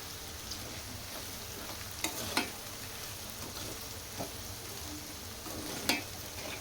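A soft, steady sizzle comes from okra curry with chili powder frying in a pan, broken by a few sharp scrapes of a spoon as it is stirred.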